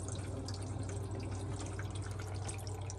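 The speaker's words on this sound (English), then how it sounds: "Can you hear the water running in there?" Water running through a newly installed NU Aqua Platinum Series reverse osmosis system under a sink: a faint, steady trickling and hiss of flowing water with a low hum, continuous and unbroken, no voices.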